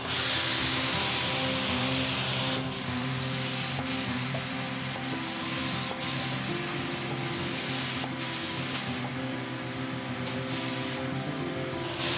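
A steady, loud abrasive hiss of sanding a wooden desk runs continuously, with a constant mechanical hum underneath and small shifts in tone.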